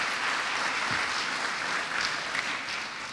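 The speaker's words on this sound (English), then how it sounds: "Go ahead, you can clap." A luncheon audience in Pottstown, Pennsylvania claps in sustained, dense applause, with many hands at once. The sound is steady and fairly loud throughout, with no voices standing out.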